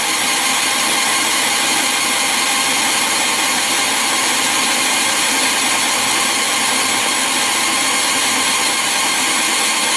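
A 50W OMTech fiber laser engraves an image, giving a constant loud, even whirring hiss of fans and machinery that holds steady from start to finish, with no voices.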